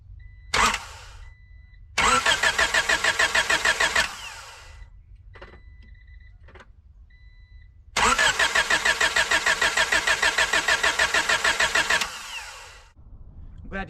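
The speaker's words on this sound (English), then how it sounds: "let's give her a crank and see if she actually fires this time" A Honda car engine, just fitted with a replacement part, cranks in two long rhythmic bursts of starter chugging, about two seconds and four seconds each, separated by quiet pauses, close and loud, without catching into a steady idle.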